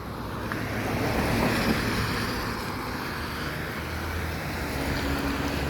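Steady rain on a walk along Kinoole Street in Hilo, Hawaii, a dense, even hiss of falling water mixed with a broad outdoor rush, continuous and moderately loud throughout with no talking.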